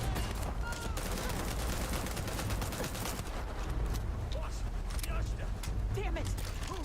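Gunfire in the sci-fi game Starfield: a continuous dense clatter of shots over a constant roar of battle noise, with voices talking throughout.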